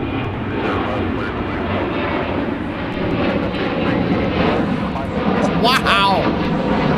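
An airliner doing a go-around at Minneapolis–Saint Paul airport, a loud, sustained jet engine roar that holds steady throughout, with people talking over it.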